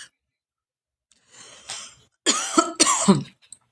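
A woman coughs several times during a spoken Catholic prayer session, a short quiet cough then two louder harsh bursts close to the microphone, alone without talk.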